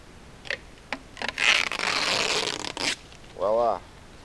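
A peel-and-stick aluminum backsplash sheet is cut by hand: a few light ticks, then a long, crisp rasping cut up close, followed by a short metallic scrape.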